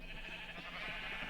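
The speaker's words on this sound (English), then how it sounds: "The sheep are in here." Sheep bleat in a Minecraft-style survival game, short game-animal calls sounding steadily close over a constant low background hum, with no talking.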